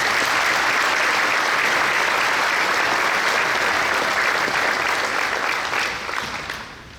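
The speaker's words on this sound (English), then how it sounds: "Let's give all of these a round of applause" Loud, sustained applause from a large crowd at a high school commencement, continuous clapping that holds steady and then begins to thin and fade near the end.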